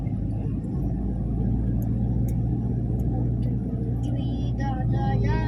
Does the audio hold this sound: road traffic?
yes